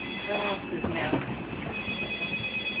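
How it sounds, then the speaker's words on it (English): A cell phone ringing indoors during a dog training lesson, a faint repeating electronic tone running steadily under room noise, with no clear speech over it. "My phone is ringing,"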